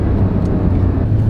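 A 2020 Porsche 911 (992 generation) drives through a tunnel, giving a loud, steady, enclosed rumble of engine and road noise with no talking.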